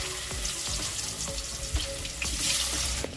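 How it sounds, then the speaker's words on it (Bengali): Young jackfruit pieces fry in hot oil, giving a steady, close sizzle and crackle with occasional sharper pops, and no one talks. "এবার ইচপটা ভেজে দেব।"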